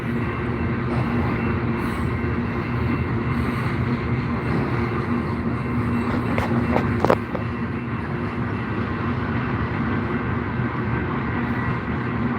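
Freight or passenger train passing through the small Alberta town of Didsbury, a loud, steady rumbling roar of rolling cars that continues throughout with a short clank midway.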